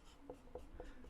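Chalk or marker strokes on a board while a maths solution is written out, a few short scratchy bursts repeating at a steady pace, quiet and close.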